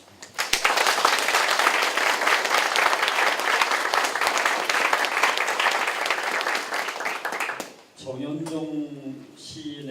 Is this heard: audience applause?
yes